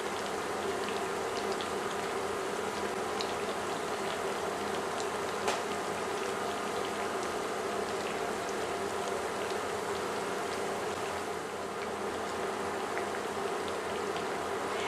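Tostones, sliced plantains, frying in oil in a skillet, a steady faint crackling sizzle with occasional louder pops, continuous and even throughout.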